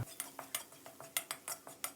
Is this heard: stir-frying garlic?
yes